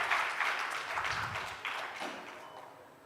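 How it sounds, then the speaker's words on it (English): Conference audience at an interventional radiology symposium applauding a panel and moderator, a soft, fairly distant spread of clapping that stays even throughout. "Ladies and gentlemen, applaud our wonderful panel and moderator."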